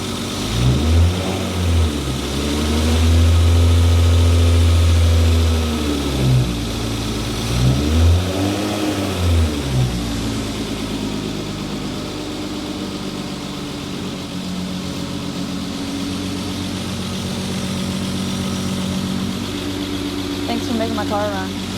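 A BMW E36 race car engine, rebuilt after a rollover, revs twice with rising and falling swells and then settles into a steady, smooth idle with a low rumble. Voices can be heard talking over it.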